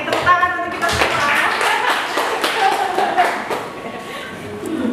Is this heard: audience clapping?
yes